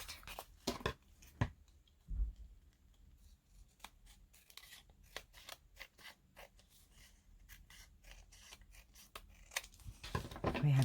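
Scissors snip through paper book page tags in a quiet room, a series of close, crisp cuts in irregular bursts with rustling paper handling between them.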